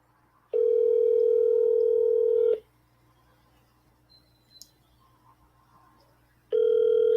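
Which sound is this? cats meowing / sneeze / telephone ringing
telephone ringing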